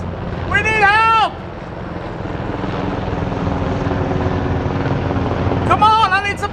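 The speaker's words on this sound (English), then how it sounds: "it's kind of funny just seeing 3 Blackhawks just fly right over the top of the shop" Three Black Hawk military helicopters passing low over a shop, a loud continuous rotor and engine drone, with people shouting over the noise at the start and end.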